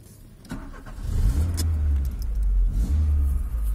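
A car engine cranks and catches, rising into a low steady rumble that surges again after a short pause, close by and loud.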